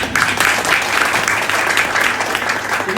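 A crowd at an indoor business presentation claps loudly and continuously, a thick wash of many hands applauding nearby at an even level from start to finish.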